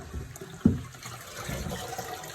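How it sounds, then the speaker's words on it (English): Water draining out of the bottom of a bucket of soaked coco coir, a soft steady trickle with a brief knock near the start, close and faint. "Drain as much water out of the bottom of it as you can."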